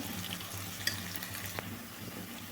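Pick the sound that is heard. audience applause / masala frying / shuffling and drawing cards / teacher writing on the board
masala frying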